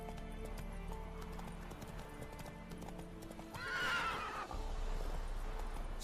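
Roach, a horse in The Witcher 3, clip-clopping over a background of game music, then giving a loud, short neigh before the hoofbeats resume.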